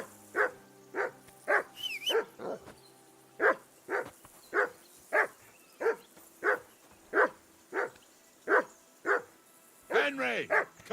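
A dog barks repeatedly in the medieval open-world game Kingdom Come 2, a steady run of about fifteen sharp, fairly close barks in even rhythm, with a faint voice underneath.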